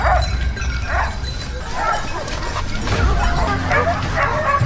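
Several hunting dogs bark, yip and whimper during a wild boar hunt in a forest, overlapping excited calls coming in repeated bursts, fairly loud and close.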